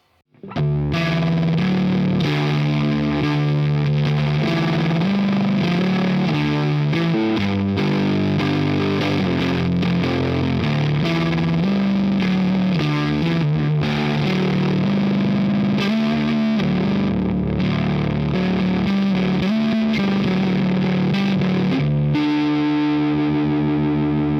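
Electric guitar played through a Peavey Decade amp's distortion, chugging heavy riffs with sustained crunchy chords and shifting notes, loud and continuous with no talking, ending on a ringing chord.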